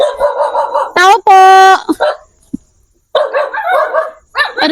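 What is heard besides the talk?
dogs barking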